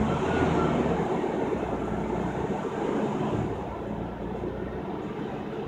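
A car engine held at raised RPMs with a slight misfire produces a steady, close, low rumble that continues without a break and eases slightly toward the end.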